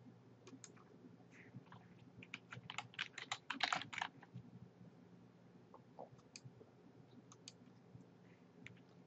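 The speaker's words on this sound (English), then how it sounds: "So I'll type in the keyword neurons in the first search box." Keystrokes on a computer keyboard as a search keyword is typed, a quick cluster of clicks in the middle with scattered taps before and after, close and fairly quiet over a low hum.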